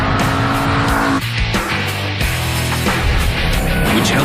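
Ford Mustang Boss 302 with 444 horsepower accelerating hard with tires gripping, a loud sustained engine roar that shifts pitch as it climbs through gears, with brief tire noise and no talking.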